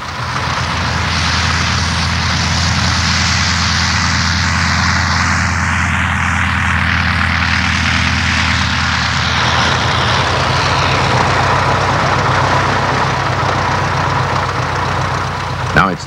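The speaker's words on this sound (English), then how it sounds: "The highly maneuverable and very successful Sopwith Pup taxis out for takeoff." A Sopwith Pup biplane taxis out for takeoff, its engine a loud, steady propeller drone with a rising whine near the start. The pitch and tone shift partway through as it moves off, heard close and continuous.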